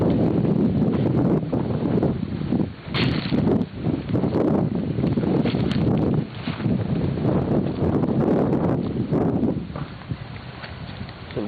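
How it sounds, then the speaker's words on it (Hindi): Strong wind blows outdoors and buffets the microphone with loud, gusting rumbles and roars that continue throughout with only brief dips. "भाई तेज हवा अभी चली है एकदम।"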